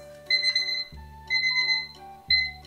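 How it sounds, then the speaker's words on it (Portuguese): An alarm clock rings loudly and nearby in three repeated electronic beeping phrases with a low hum under each one and brief gaps between them. "vamos desligar o alarme"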